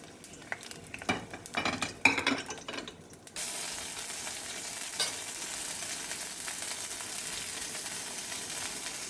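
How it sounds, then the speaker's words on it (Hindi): Green chillies drop into hot oil in a wok, starting with a few clattering stirs, then settling into a steady, even frying hiss. "इस ऑयल में मैं सबसे पहले हरी मिर्ची, इसका कच्चापन दूर करने के लिए ऐड कर दूंगी।"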